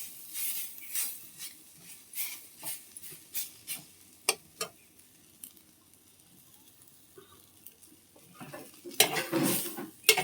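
Food frying in a pan is stirred with a utensil, giving repeated scraping taps over a soft background sizzle, then quieting before a louder burst of clattering stirring near the end.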